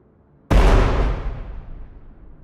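A grenade, either a flashbang or a smoke grenade, explodes in the video game Road to Vostok with a single loud, sudden blast that then trails off into a long, rumbling decay. Nobody speaks.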